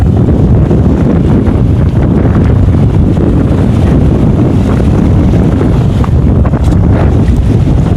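Strong wind roars at the seaside during crab hunting on Mandaitivu, a loud, steady rush buffeting the microphone with the wash of waves beneath, constant from start to end.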